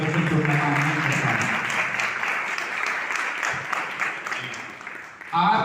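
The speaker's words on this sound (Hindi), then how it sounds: "एक बार ताली मार के धन्यवाद दो" A church congregation at a Sunday Christmas service claps together in a sustained, dense round of applause that fills the whole stretch, easing off slightly toward the end.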